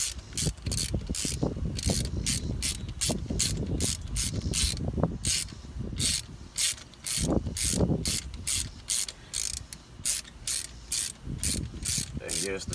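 A ratchet with a swivel socket turns a spark plug in rapid, regular clicking bursts, close and crisp, with brief pauses between strokes.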